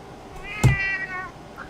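An unhappy cat gives a single drawn-out, complaining meow, close and moderately loud against a quiet room.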